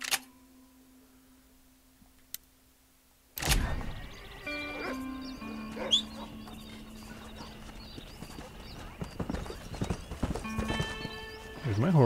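Horse hooves clip-clop through a Red Dead Redemption game scene after about three quiet seconds, mixed with a bright musical score and game ambience, with a brief whinny-like cry.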